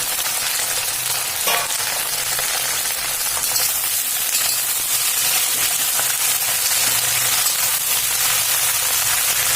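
Okra sizzles and spits steadily in hot oil with cumin seeds, a close, continuous frying crackle with a few louder pops and faint stirring, no voices.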